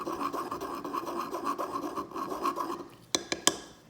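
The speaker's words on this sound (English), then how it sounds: "So mortar and pestle is one of the best ways." Acrylic paint pigment is ground in a mortar and pestle, making a rhythmic, close scraping rasp in repeated strokes that ends in a few sharp knocks.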